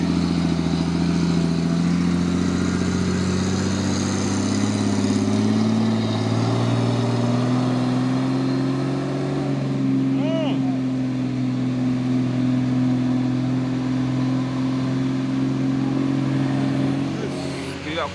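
An orange Puso 6x2 truck strains uphill at dusk and fails to make the climb. Its engine labours in a long, loud, rising and wavering drone throughout.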